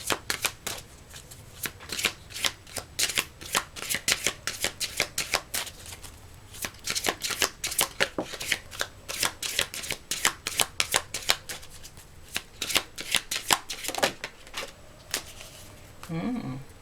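Oracle cards being shuffled by hand, a long run of quick, close riffling flutters in uneven bursts with brief pauses, no talk.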